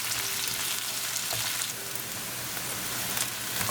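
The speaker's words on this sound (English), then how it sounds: "we're going to cook our onion until they become translucent." Onions frying in a pan over a high flame for rice pilaf, a steady dense sizzle with a faint hum running alongside, close and continuous without talk.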